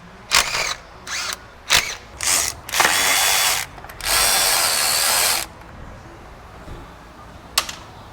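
A power tool on a Toyota engine removing the 12 mm intake manifold bolts: several short whirring bursts, then two longer sustained runs, close and loud, followed by quiet shop background and a faint click.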